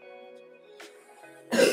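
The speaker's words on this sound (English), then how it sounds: "I'm still coughing though." A single short cough or throat-clear from a woman recovering from illness sounds close by, with a faint catch just before it and a stronger rasp at the end.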